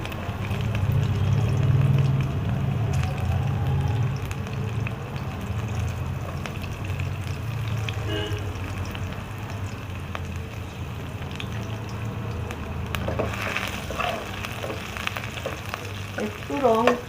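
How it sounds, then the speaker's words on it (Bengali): Chopped onion, garlic, ginger and chilli sizzle in hot oil for chilli mushroom, a steady, close crackle with occasional stirring scrapes and a brighter spatter near the end. "এবারে চিলি মশরুমের জন্য যে পেঁয়াজ, রসুন, আদা, লঙ্কা কুচিটা আগে দিয়ে দিলাম।"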